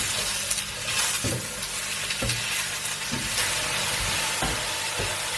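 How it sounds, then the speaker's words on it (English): Mushrooms fry in a pan over strong heat with a steady, loud hiss and sizzle, broken by several soft scraping knocks as they are stirred. "Mushrooms need to be cooked on a strong heat quickly"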